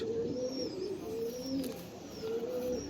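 A pigeon gives a run of low, throaty coos, close and steady over a soft background hum.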